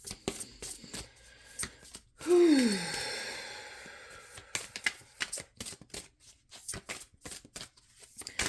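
Tarot cards are shuffled close up in rapid riffling bursts, broken by a long audible sigh and then more quick, papery flicks.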